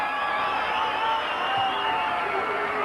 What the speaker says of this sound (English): And the crowd certainly getting behind them.